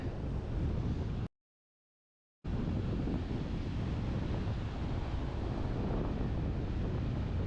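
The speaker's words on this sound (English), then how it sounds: "a lot of good wave sound there." Ocean surf rolling onto the shore at Yorkeys Knob with a continuous broadband roar and some wind rumble, cut by a brief stretch of complete silence near the start.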